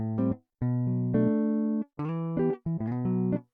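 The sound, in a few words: guitar in FL Studio without effects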